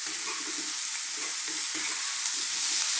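Mushrooms and chickpeas stir-fried on high heat give a loud continuous sizzle, with a spatula scraping and turning them in repeated strokes throughout.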